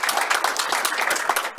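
A short, steady round of applause from a small audience at a Murray City meeting: dense, even clapping from many hands at moderate distance, with no voices over it.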